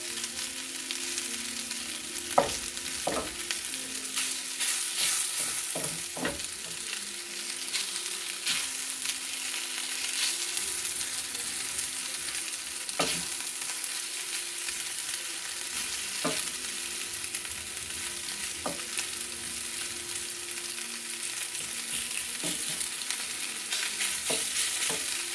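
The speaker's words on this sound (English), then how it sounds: "you just sear the edges of the sides of it, just to kind of lock in flavor" Stew meat sears and fries in a hot pan for posole, a constant sizzling hiss with occasional sharp clicks and scrapes of stirring, close and steady with no talk.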